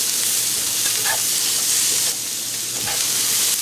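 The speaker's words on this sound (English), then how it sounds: "So I got the heat on high, and we're just going to stir fry that for a little bit." Two small fresh onions stir frying in a wok on high heat, a loud continuous sizzle with bursts of hissing as they're tossed and stirred, no talking.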